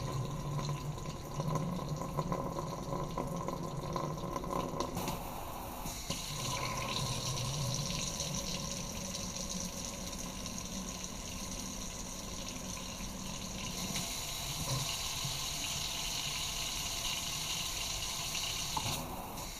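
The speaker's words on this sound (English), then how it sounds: "This is a Mazz faucet made by Kohler." Water runs from a Kohler Mazz faucet, model K-R72511-SD, suffering from low water pressure, a soft continuous splash into the sink that shifts in character a few times, with no talking.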